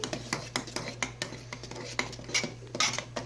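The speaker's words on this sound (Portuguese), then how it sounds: "Quer que eu mexa um pouco?" A spoon stirs a gelatin mixture in a cup, giving quick repeated clinks and scrapes against the sides over a steady low hum.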